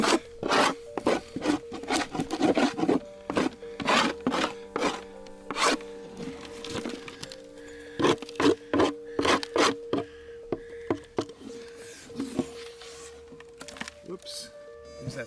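A hive tool scrapes burr comb and sticky propolis off a wooden beehive frame during a September honey harvest, in a run of close, rasping strokes that come in bursts and pauses, with a voice talking now and then.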